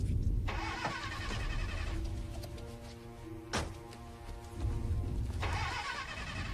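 A car engine cranks repeatedly without catching, a rough grinding churn that starts and stops in bursts over a dense, noisy background, with a brief sharp click midway.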